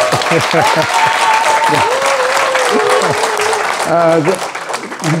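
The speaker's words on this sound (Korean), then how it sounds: "뜨거운 박수 한번 보내주시죠" A seated audience at a political book concert applauds loudly and steadily while a voice speaks over the clapping, and the applause thins out near the end.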